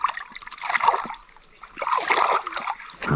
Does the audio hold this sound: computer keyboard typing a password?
no